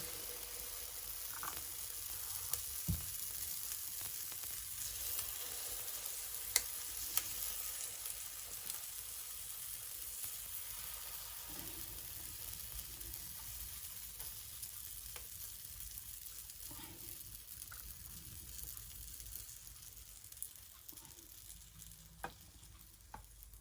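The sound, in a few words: butter sizzling in a waffle iron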